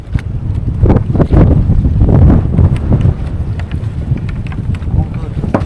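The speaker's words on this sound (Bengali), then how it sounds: "আর প্রচণ্ড হাওয়া চলছে, সমুদ্রে প্রচণ্ড ঢেউ" Strong wind and heavy waves at sea during saltwater prawn fishing, heard as loud, gusty wind buffeting the microphone with rough, uneven bursts of water and surf throughout.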